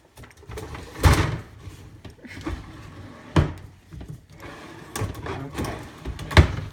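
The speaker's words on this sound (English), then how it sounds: "So we are putting our drawer back." A drawer is slid back into a cabinet beside a sink, with several loud wooden knocks and slides spread out among quieter handling noises and no talk.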